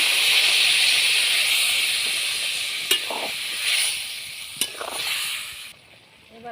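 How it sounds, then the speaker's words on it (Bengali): Water hitting a hot pan of tengra fish curry with mustard and cumin paste sets off a loud, steady sizzling hiss that lasts several seconds, with a couple of sharp clinks from the pan, and it quietens abruptly near the end. "এবার জল দিয়ে দিচ্ছি"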